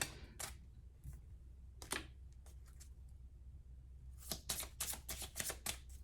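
Playing cards shuffled for a game of spades: a few separate riffling bursts, then a quick cluster of crisp snaps and flutters near the end, close and moderately loud over a quiet room hum.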